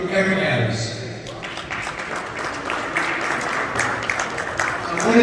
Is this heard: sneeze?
no